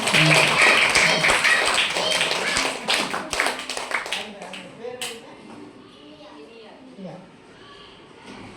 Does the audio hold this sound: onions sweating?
no